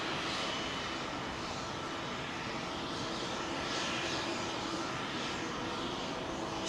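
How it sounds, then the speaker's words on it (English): A Virgin Atlantic Airbus A350 jet airliner at London Heathrow runway 27L gives off a steady, broad engine roar that stays even and fairly constant throughout, with no voices. "New service to Orlando on the 350 with Virgin Atlantic."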